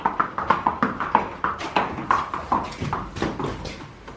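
A horse moves about inside a barn, its hooves knocking out a quick, uneven run of clip-clop thuds close by, with no talking over them.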